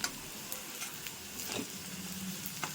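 Potato bonda filling sautéing in a pan gives a soft, steady sizzle with a few light scraping stirs, faint and close, with no talking.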